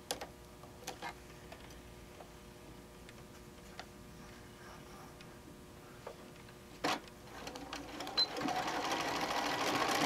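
A home sewing machine back-stitching fabric for a camper-panel cover gives faint, sparse clicking and ticking at close range, with a brief louder whir near the end.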